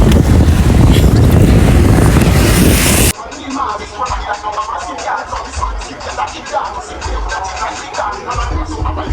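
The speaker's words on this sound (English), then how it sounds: "Y'all see how windy it is?" Strong wind buffeting the microphone outdoors on a cool evening before rain, a loud rumbling gust for about three seconds, then an abrupt drop to softer, uneven rustling and fluttering.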